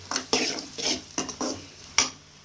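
Pasta sauce with tomato being stirred and tossed in a pan on high heat: a series of scraping, clattering spoon-on-pan strokes with light sizzle between them, close and clear.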